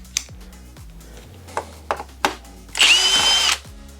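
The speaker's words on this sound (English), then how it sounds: "Pull the screws out, put these in, put the screws back." A power drill driving replacement screws while fitting a ClarkPads protective system on a Sherman S, giving a few light clicks and taps and then one short, loud whirring burst up close, with no talking.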